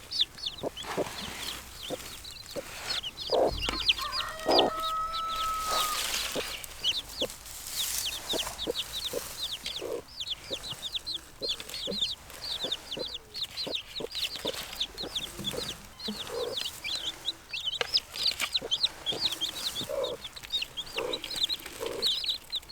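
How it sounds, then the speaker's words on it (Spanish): A hen with her newborn chicks, soft repeated clucks from the hen layered over constant high, rapid peeping from the chicks, all close and continuous. "Ahora vamos a mover a la gallina con sus pollitos y a ver cuántos hay."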